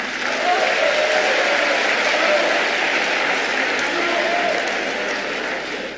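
Crowd acclamations and applause at a PDCI party event in Côte d'Ivoire, a loud, dense, sustained roar of clapping and cheering that carries on without pause.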